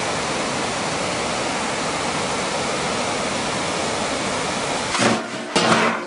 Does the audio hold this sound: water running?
yes